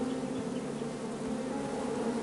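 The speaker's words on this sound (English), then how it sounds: "I ruined the bees' day and that lovely meal." Bees buzz in a continuous, steady drone in the King's Quest video game, loud and close with no pauses.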